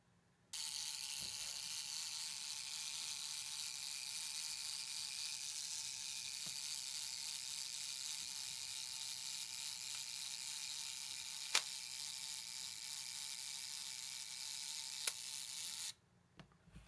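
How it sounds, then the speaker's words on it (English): A Kiev 4M rangefinder camera's self-timer buzzes steadily for about fifteen seconds with a mechanical whirring rattle, a couple of faint clicks along the way, then stops as the shutter fires with a small click, close and quiet. "We'll cock it and fire it on a time shot"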